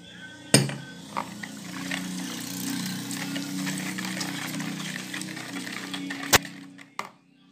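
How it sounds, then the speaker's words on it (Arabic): Warm milk poured into cake batter, a steady liquid gush running for several seconds, with a few sharp clinks of utensils or a bowl at the start and near the end. "وغادي نرميو ان شاء الله داك الكويس ديال الحليب البنات راه دافي"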